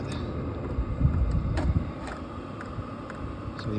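Hcalory portable diesel heater running inside a box, a steady low rumbling fan hum with airy rush and faint intermittent ticks, continuous and fairly loud.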